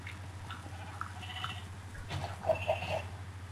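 Sheep bleat in a Minecraft survival world, short blocky cries popping up a few times over a steady low hum, with faint game noises around them.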